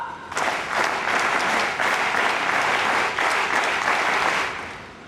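Applause from an audience at a state award ceremony and rally rises quickly into dense, loud clapping from many hands in a large gathering, sustained in a few surges before easing off at the end.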